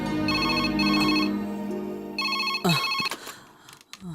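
A phone ringtone sounds in a police station scene from a Tamil fantasy film, a repeating electronic melody in bursts, loud and close, then cut short by a thud and clatter.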